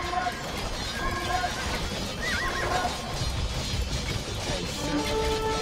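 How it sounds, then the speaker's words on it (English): Horses neigh and whinny repeatedly over clip-clopping hooves and clashing battle noise in the Age of Empires 2 video game, a dense, busy mix. "Some more horses here."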